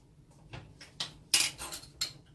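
A wooden spoon stirring sourdough starter in a container, a few distinct knocks and scrapes in an irregular rhythm, close and fairly quiet, with no talk.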